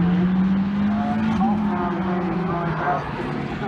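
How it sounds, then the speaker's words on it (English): A Ferrari supercar passes along a race track, its engine note sweeping up and down as it goes by, heard steadily through heavy wind buffeting from a windy trackside position. "Here comes the Ferrari."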